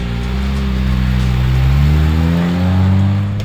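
Race car engine revving hard at full throttle during a drift, a loud close droning roar with rising and falling pitch, no talk.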